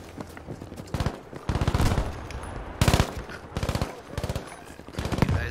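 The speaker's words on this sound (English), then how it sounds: "Lay down some suppressive fire." Machine gun suppressive fire in Battlefield V, rapid rattling bursts repeating every second or so with short gaps between, loud and close, with background game noise and no talk.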